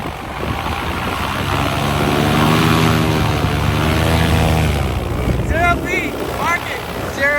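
A STOL light airplane at full power for a zero-foot takeoff at a competition, its propeller engine roaring loud and steady with a rising then falling drone, close by, while voices shout over it near the end.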